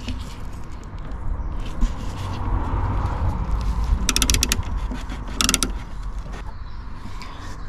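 Fixings on an Audi A4 B8 headlamp being loosened with a hand tool, giving steady mechanical creaks and ratcheting with a couple of brief sharper clicking bursts, close up with no talking.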